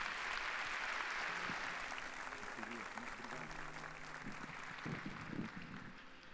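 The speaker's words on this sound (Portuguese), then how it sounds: "Uma salva de palmas para a Lia." Audience applause at a Café Com Negócio business talk, a steady broadband wash of clapping across the whole stretch, with voices talking over it in the latter half.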